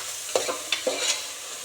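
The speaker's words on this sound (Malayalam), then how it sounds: "എന്നിട്ട് എല്ലാം കൂടെ ഒന്ന് ഇളക്കി മിക്സാക്കി കൊടുക്കുക." Tomato, ginger, garlic and green chillies frying in a pan, a steady close sizzle broken by three or four sharp scraping strokes of a spoon as they are stirred together.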